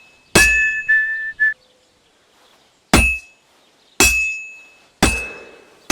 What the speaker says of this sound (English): hitting an anvil with a hammer